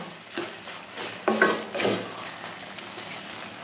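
A spoon stirs tomato chutney with chopped coriander, kitchen king masala and salt in a pan, giving soft scraping and light sizzling strokes close by, fairly quiet and without talk.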